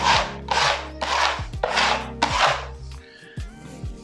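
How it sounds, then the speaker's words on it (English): Easy-fill wall filler being rubbed down by hand, a series of about five loud, regular rasping strokes close up, followed by a few softer scrapes. "And then all you do is rub it."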